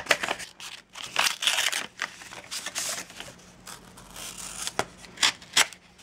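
Paper envelope from a K-pop merch haul being cut open with scissors: a run of close, crisp snips and crinkling paper in irregular bursts, with a few sharp cuts near the end.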